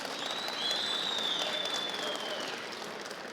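Loud, sustained applause from a crowd at a tractor auction at the Konya fair, where an Erkunt tractor is being sold, a dense steady clapping that fills the whole stretch with a faint whistle above it.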